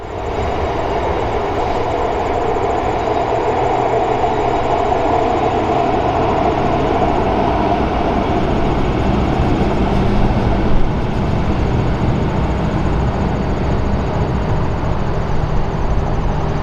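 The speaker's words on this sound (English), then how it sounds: "We get a better look at a REM train as another EXO outbound departs Montreal." An EXO commuter train departs Montreal's Gare Centrale, its locomotive engine giving a steady, loud low rumble and drone that holds evenly throughout with no voices.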